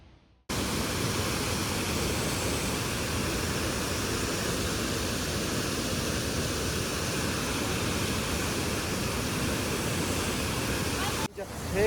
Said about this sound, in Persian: اینجا هم یک دونه آبشار هست